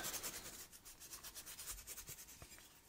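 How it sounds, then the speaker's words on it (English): Scotch-Brite pad scrubbing a part clean during an El Camino build, a quiet continuous rapid rubbing close by, steady scratchy strokes without pause and no talking. "I'm going to clean this up with some Scotch-Brite as always."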